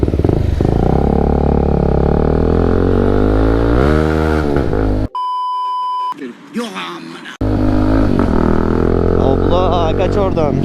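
Kawasaki NK250 motorcycle fitted with a new Akrapovic exhaust, ridden on the road: a loud, continuous engine drone that rises in pitch, breaks off sharply for about two seconds, then returns at full strength.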